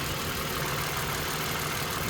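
A 2013 Toyota Sienna minivan idles during a coolant change, a steady, broadband engine drone with no variation and no voices.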